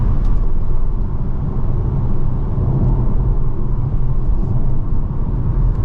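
A 2024 MG4 XPower electric car pushes hard through a corner, giving a steady, loud broadband road and drivetrain rumble that holds constant without any break.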